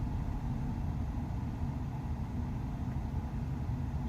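Mercedes 600SL engine idling unevenly, a low, steady rumble heard close up with a slight wavering pulse, continuing alone for a few seconds without speech.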